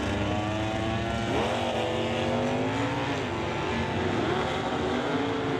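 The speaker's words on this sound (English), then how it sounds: "Wheels up launch for John in the AAR Cuda" AAR Cuda drag car launching wheels-up from the line at a North West Racer Stock/SS drag racing event, a loud sustained engine roar rising in pitch as it accelerates away, steady and close with no talk.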